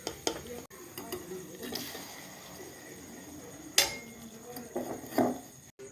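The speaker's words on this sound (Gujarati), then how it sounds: "હવે આપણે એને બહાર કાઢી ચાસણીમાં નાખી દઈએ" Fried jalebi is lifted out of hot oil and dropped into sugar syrup, with scattered clinks and knocks of a utensil against a pan and a light sizzle, while a voice talks at times.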